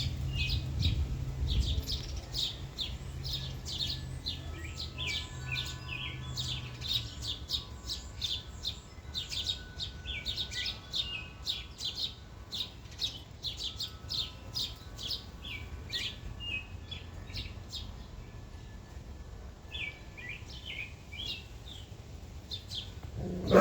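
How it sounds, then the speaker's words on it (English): Birds chirping outdoors on a cold morning, rapid repeated high tweets in a steady stream over a long stretch, with low background rumble and a dog faintly present, no talk. "Must be a bird."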